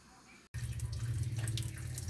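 Beef offal for papaitan washed under a running tap, with a steady close gush of water into a sink that starts abruptly after a brief silence and continues alone.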